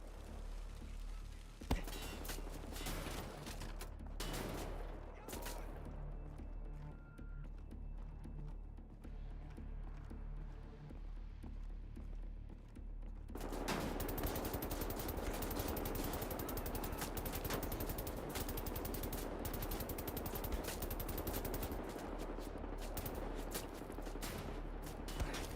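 Sustained automatic gunfire from the World War II shooter Wolfenstein, dense rapid bursts that start after a quieter stretch and stay loud and continuous to the end, with faint game sounds underneath.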